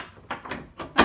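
A small household door is handled, giving a few soft knocks and rattles at an uneven pace, faint and close, with the last bump the loudest.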